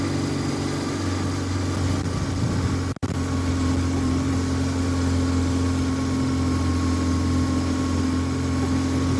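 A BMW R850R motorcycle on a test ride with a quiet muffler, a steady low engine drone holding an even note throughout, with one brief sharp dropout near the start.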